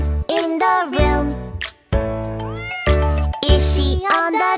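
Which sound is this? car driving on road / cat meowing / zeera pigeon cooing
cat meowing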